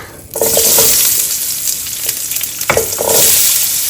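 Cubes of potato coated in turmeric drop into hot oil and fry with a loud, steady sizzle, briefly broken by a couple of stirring scrapes that dip and then resurge, close-up and with no voices.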